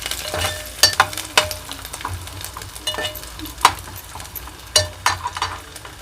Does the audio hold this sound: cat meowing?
no